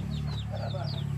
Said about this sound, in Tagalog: Buhay bukid. May mga manok.